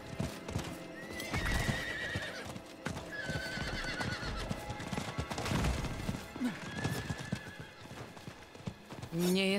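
A horse in the Diablo IV video game gives a clear whinny over steady clip-clopping hooves, set against busy in-game music and ambience.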